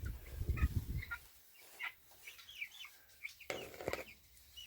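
A flock of young chickens in an 8 by 12 foot coop meant for fifty birds chirps and clucks close by, calls overlapping in irregular bursts with a busier stretch near the end.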